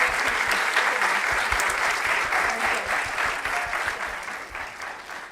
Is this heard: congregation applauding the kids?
yes